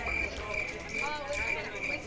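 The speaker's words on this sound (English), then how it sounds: "The crickets are out." Crickets chirp steadily outdoors as darkness falls, a thin continuous trill with pulsing bursts running under faint background noise throughout.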